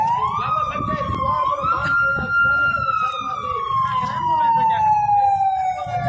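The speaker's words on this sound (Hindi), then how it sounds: "एम्बुलेंस है, प्राइवेट एम्बुलेंस है।" A private ambulance's loud siren wails in a long, slowly falling tone near the listener, over road traffic noise, with someone talking underneath.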